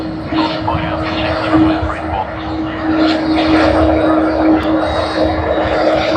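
Qantas Airbus A330 at Sydney Airport, a loud jet engine roar with a sustained steady whine, rising slightly toward the end, with people talking faintly beneath it.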